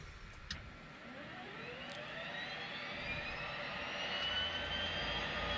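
Propeller aircraft engines spool up in the X-Plane 10 flight simulator, a rising whine climbing steadily in pitch and growing louder over several seconds, alone with no talk.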